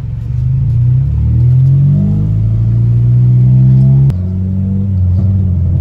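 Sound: car engine revving

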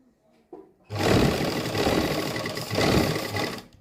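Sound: sewing machine stitching piping

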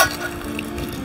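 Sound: full cast iron pan sizzling on hot embers

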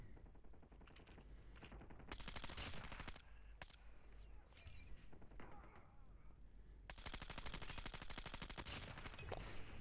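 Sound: long-range gunshot from video game Call of Duty, Bruen MK9

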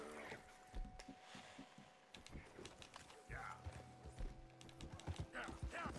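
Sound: horse hooves in a video game

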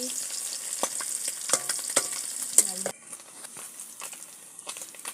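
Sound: frying fish in oil

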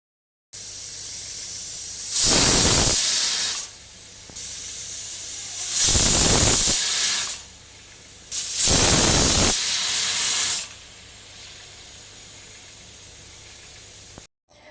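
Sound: pressure cooker releasing steam while cooking bottle gourd

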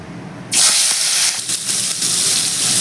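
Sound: prawns frying in hot mustard oil

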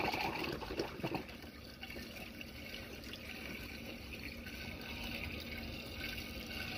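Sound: pouring water into car washer reservoir

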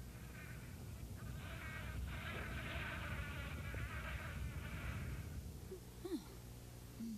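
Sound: bees buzzing, TV drama sound effect

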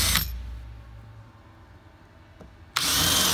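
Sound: drill driving screws into plywood sheeting

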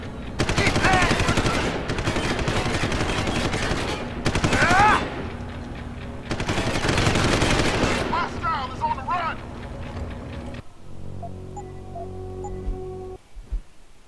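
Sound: gunfire from an enemy shooting rockets in video game Deus Ex Human Revolution

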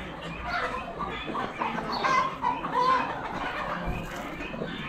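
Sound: rooster and chicks clucking

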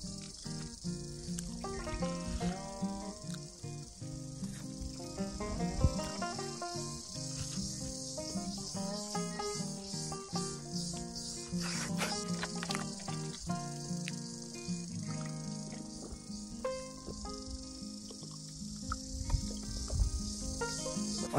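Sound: crickets chirping in the ground during cricket digging

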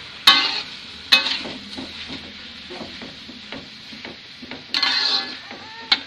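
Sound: water added to sautéed spice paste sizzling in pan

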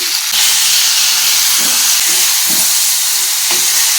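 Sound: meat curry boiling in a wok

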